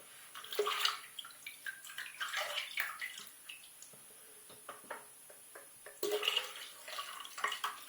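Tap water runs in a bathroom sink while a face is wetted before a wet shave, coming in splashing, intermittent bursts with quieter drips and ticks between them, close by and moderately soft, with no talking.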